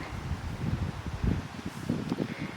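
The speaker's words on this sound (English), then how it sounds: "I love it all blowing in the wind." Tall garden phlox plants toss in a warm summer breeze, their foliage rustling in soft irregular gusts with low wind buffeting close to the microphone.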